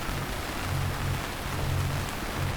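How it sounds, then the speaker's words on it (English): Steady rain from a storm in Nova Scotia, a continuous even hiss of drops falling on a surface, moderately loud and unbroken, with no voices. "Another storm in Canada."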